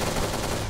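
A short, dense burst of gunfire from the video game Kane and Lynch 2, loud and continuous, with rapid shots blurring together.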